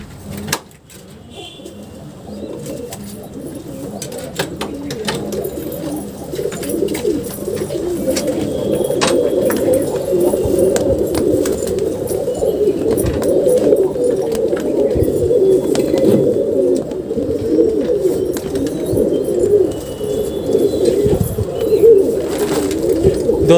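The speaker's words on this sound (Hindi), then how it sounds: "तो चलिए दोस्तों खोलते कबूतर को बाहर।" Pigeons coo in a low, continuous murmur as they are released from their coop, the cooing steady and near throughout, with scattered soft knocks and faint background movement.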